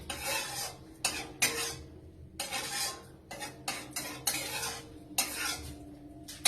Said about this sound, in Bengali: এবার এটা একটু নেড়ে চেড়ে নিয়ে নিলাম, যাতে পাতিলেবুর রসটা ভেতরে চলে যায়।